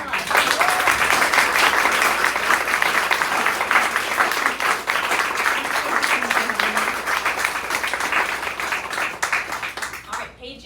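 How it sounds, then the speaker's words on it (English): An audience at a book launch in Wichita, Kansas, breaks into loud, sustained applause of dense clapping that fills the room, then tapers off at the end. "let's all give Paige another round of applause."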